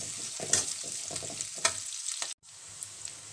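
Curry leaves stirred in a hot frying pan while preparing a country chicken fry, giving a steady sizzle with a few spoon scrapes, then a brief cut and the frying continuing alone.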